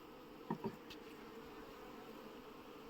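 Honeybees around a hive produce a faint, steady hum that runs continuously throughout, with a couple of soft knocks early on.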